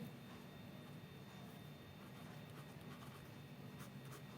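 Faint, steady scratching of a math answer being written out, a soft continuous scribble under quiet background hiss.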